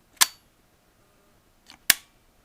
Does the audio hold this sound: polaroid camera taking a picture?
yes